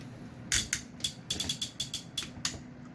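Ratchet joints in the arm of a Zeus Toys Shockwave action figure give about a dozen small, crisp plastic clicks in an uneven run as the arm is moved, close and quiet.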